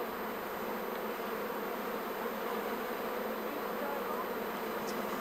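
A dynamic honeybee colony hums steadily in an open hive, a dense, continuous buzz of many wings that stays close and even throughout, with no voices over it.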